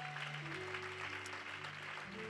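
Church congregation applauding and cheering in worship, a dense, steady wash of clapping lasting about two seconds with a sustained tone underneath.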